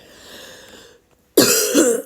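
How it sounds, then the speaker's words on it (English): A person with a blocked chest and nose gives a short sharp cough, close and loud, after a quiet lead-in of faint room noise. "I'm coughing a bit, but it's not as severe as it could be."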